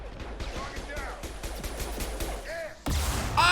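Missiles striking during a Mass Effect 2 firefight: a rapid string of crackling shots gives way to a sudden loud blast and a roaring impact near the end, with voices mixed in.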